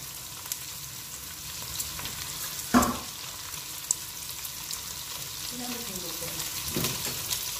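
Onions sizzling in hot oil in a pan for pancit, a steady bright frying hiss with a few soft clatters of stirring.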